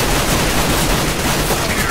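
Dense, loud gunfire from a first-person shooter video game fills the moment as a continuous volley of shots, close and sustained with no clear pauses.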